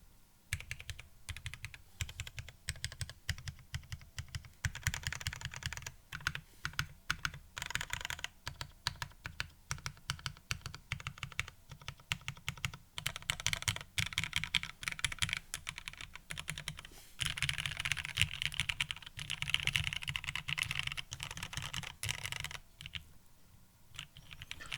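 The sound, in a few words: typing on Perry.Works IU V2 prototype keyboard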